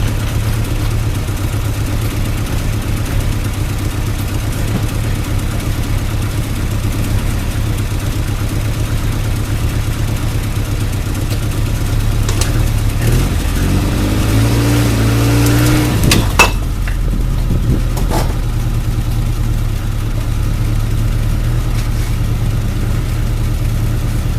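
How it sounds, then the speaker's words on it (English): A truck with a rear locker is driven off a jack stand; a steady engine idle runs throughout, with a brief rev and drivetrain shift near the middle before settling back to idle. "So we're going to drive it off the jack stand after I put the wheel on and show you that the locker indeed does work."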